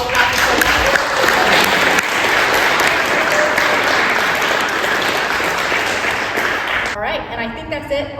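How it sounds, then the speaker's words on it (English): Sustained applause from an audience at a university research labs fair, steady and loud for about seven seconds before thinning out into scattered claps at the end. "let's get a huge round of applause for all the lab people"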